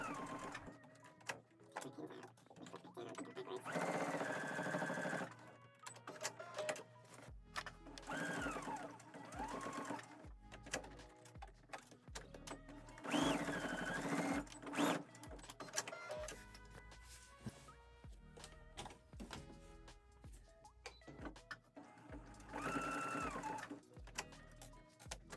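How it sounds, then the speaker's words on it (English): A sewing machine stitches across the top of a tote bag handle, running forwards, backwards and forwards again in several bursts of rapid mechanical whirring, close and clear, separated by short pauses and quiet clicks. "We're going to sew this across here, and we're going to go forwards, backwards, forwards to make sure it's in nice and secure at the top of the bag."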